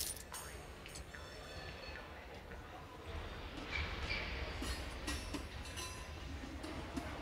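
A train rumbles steadily along in the video game Bounty Train, a continuous low mechanical drone with faint clatter that swells slightly louder midway, with no speech over it.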